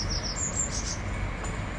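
Birds chirp outside on a balcony during lockdown, a few thin, high tweets repeating in short bursts over a steady background hum, with no talking.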